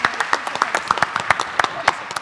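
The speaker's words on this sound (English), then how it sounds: "let's do some applause again for those people." Audience at a JavaScript developer conference game show clapping for players, a sparse scattering of individual claps at irregular intervals, fairly close and fading quickly rather than building into full applause.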